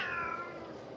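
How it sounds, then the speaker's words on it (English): A former stray house cat gives a single drawn-out meow, close and clear, fading as it ends, with no voices around it. "And Ozzy, he's making himself known that he used to be a garbage cat."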